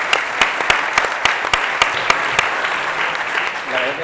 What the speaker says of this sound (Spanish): Un aplauso para Vicente también